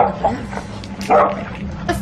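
Dog gives a few short barks and yips indoors, loud and close, amid a hectic household scene.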